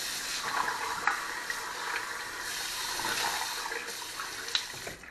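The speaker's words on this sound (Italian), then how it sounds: "Bagniamoci il viso." Water splashes as hands wet the face at a sink, a continuous close rush of running water mixed with soft irregular splashes, with no voices.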